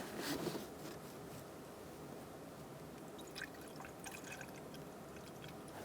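Coolant being poured into the radiator of a 2012-2018 Ford Focus 2.0L, a steady liquid trickle and gurgle that runs continuously throughout, close and moderately quiet, with no talking.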